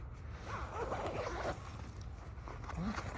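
A zipper on a shoulder and neck massager's case rasps open in short, close pulls, with a faint voice and light handling noise around it.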